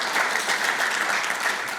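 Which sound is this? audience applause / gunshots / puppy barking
audience applause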